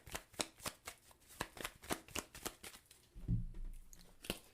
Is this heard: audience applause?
no